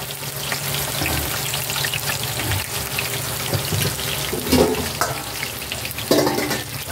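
A splash of vinegar goes into adobong kangkong frying in a pan, giving a loud, continuous sizzle and hiss with a couple of clinking stirs near the end.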